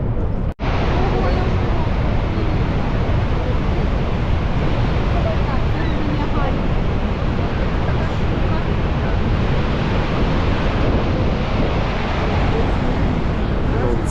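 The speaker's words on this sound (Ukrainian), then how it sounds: "Це вже супер, тут водою закидає всіх." Waves in the Niagara Whirlpool surge and splash water over onlookers at a viewing spot, a dense, continuous roar of rushing water and wind buffeting the microphone throughout, with one sharp knock near the start.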